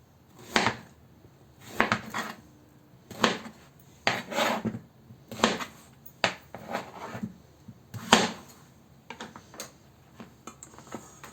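A knife cutting fresh bottle gourd into large pieces, about a dozen distinct chopping strikes against a board at an uneven steady pace, close and clear with no talking.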